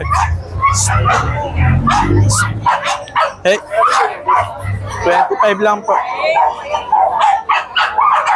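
A Doberman's barks and yips come in bursts over steady, close-up chatter at a pet market, with several people talking throughout and some handling noise in the background.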